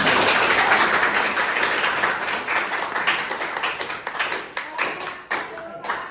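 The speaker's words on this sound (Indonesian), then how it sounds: "kita tepuk tangan yang paling meriah" An audience claps hands together in a full, lively burst that gradually thins into scattered individual claps before fading out.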